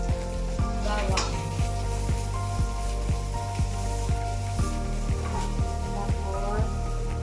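Garlic sizzles and fries in a pan, a steady crackling hiss with regular scraping strokes of stirring, for a beef and broccoli dish.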